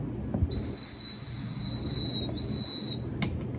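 A steam engine's shrill whistle sounds in one long sustained blast, then a brief second toot, over low rumbling rail noise as the train sets off.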